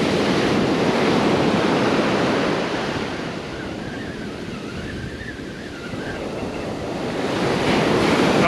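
Ocean surf rolls and breaks steadily on a beach in Ocean City, Maryland, a loud continuous wash of waves with wind rumbling across the microphone, easing slightly mid-way before swelling again.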